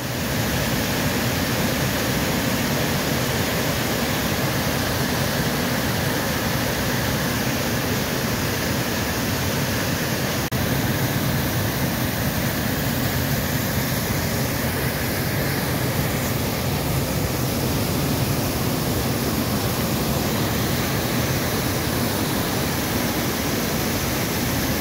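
Wyllys Falls on a brook in Manchester, Connecticut, runs at high water: a steady, dense roar of falling and rushing water fills the scene, loud and unbroken, heard from below the falls.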